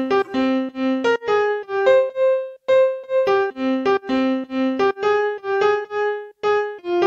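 Synth melody played on Sylenth1: a loud, bright lead sounding a bouncy sequence of short staccato notes in a quick repeating rhythm, alone with no voice.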